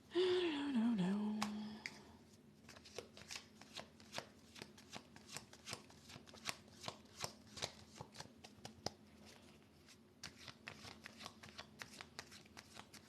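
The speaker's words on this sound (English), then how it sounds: "Or would you just like me to pull some cards for you, Craig?" Tarot cards are riffled and shuffled by hand at close range, a long run of crisp, rapid flicks and slaps in uneven bursts, with a brief voice at the very start.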